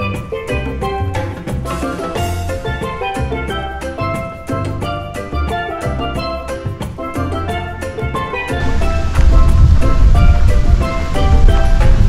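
Ocean waves wash onto a beach in Belize, a loud broadband surf roar that rises after a stretch of music and then dominates the closing seconds.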